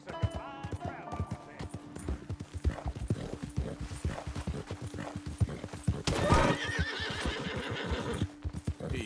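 A horse in Red Dead Redemption 2 whinnies loudly while hooves clop in an uneven walking rhythm, with a person talking over it.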